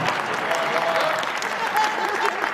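A crowd applauds at a Hindi hasya kavi sammelan comedy poetry show, a steady wash of many hands clapping with a few faint shouts mixed in.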